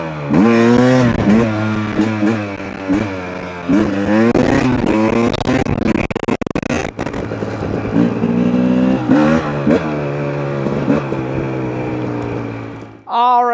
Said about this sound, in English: the bike is running perfectly